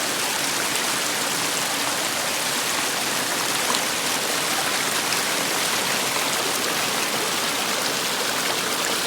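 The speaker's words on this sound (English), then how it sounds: "cross Sabino Creek" Sabino Creek rushes steadily at a crossing near the Hutch's Pool trail junction in Arizona, a loud, continuous broadband flow of water with no pauses, heard close up.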